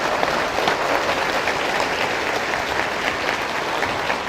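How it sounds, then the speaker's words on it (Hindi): A seminar audience at a college claps steadily, a dense even roar of applause heard up close and without pause throughout. "आप लोग एक बार जोर से तालियां बजा दें कम से कम।"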